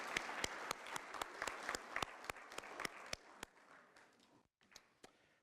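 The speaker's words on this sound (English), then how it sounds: "Let's give Eileen a round of applause anyway." Audience applause at a community event in Derry, New Hampshire: a few sharp claps stand out over a soft crowd wash that thins and fades toward the end.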